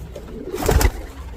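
Pigeons coo in a purpose-built bird loft, one soft throaty coo rising and fading over a low murmur of birds, close by.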